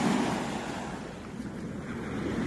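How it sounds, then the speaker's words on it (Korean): Ocean waves wash onto a beach in a continuous low roar of surf mixed with wind noise, close and steady, with no talking. "파도 크다."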